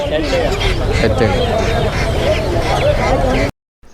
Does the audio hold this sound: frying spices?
no